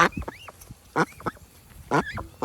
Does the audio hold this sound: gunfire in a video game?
no